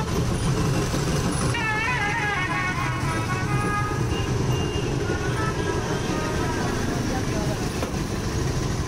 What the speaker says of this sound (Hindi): पीछे ट्रैफिक लगा हुआ